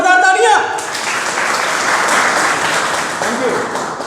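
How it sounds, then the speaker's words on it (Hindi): An audience at a Modicare meetup in Kaimganj bursts into loud, dense applause that carries on steadily for several seconds, right after a brief stretch of a speaker's voice at the start. "एक बार अपनी एनर्जी दिखाने के लिए आप लोगों के लिए ही जोरदार तालियां।"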